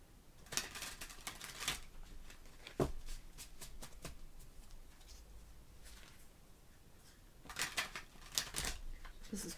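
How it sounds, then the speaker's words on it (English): Tarot cards from a cumbersome, hard-to-shuffle deck are shuffled in bursts of riffling, crisp papery clatter separated by quieter gaps, close and fairly soft. "This is quite a difficult deck to shuffle"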